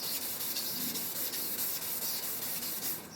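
Wet sanding the body of a 1966 Chevy Caprice lowrider: continuous close scratchy rubbing of sandpaper on a wet panel, a steady hiss-like friction with no talking.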